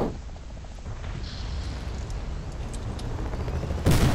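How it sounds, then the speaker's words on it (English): Battlefield gunfire and blasts from RPG and tank fire in a combat video game rumble in a low, continuous barrage, with a louder explosive burst near the end. "The RPG and the tank hitting us for just too much."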